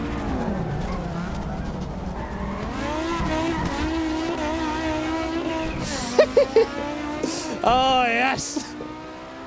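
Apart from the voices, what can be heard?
Group B rally car engine buzzing the rev limiter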